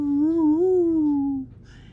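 A reported Sasquatch vocalization recorded at a forest campsite: a single long, wavering, tonal moan or howl that rises slightly and then slowly fades out, clear and fairly loud over quiet background.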